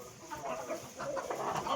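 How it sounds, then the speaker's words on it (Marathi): Chickens clucking on a goat farm, a few soft, irregular clucks heard at moderate distance against faint farmyard background noise. "कोंबड्या बघा"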